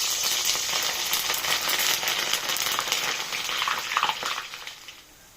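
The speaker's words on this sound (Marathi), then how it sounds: "तेल तापल्यानंतर त्यात पहिले मिरच्या तळून घ्यायच्या" Green chillies fry in hot oil with a bright, crackling sizzle that stays loud and close, then spits in a few pops before fading away toward the end.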